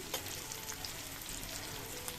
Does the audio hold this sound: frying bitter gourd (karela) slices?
yes